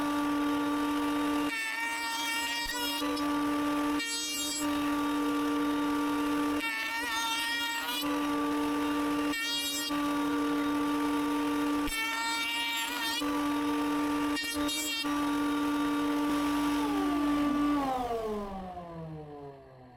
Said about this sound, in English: Now I mill a groove on the inside of each piece that is 4 millimeters deep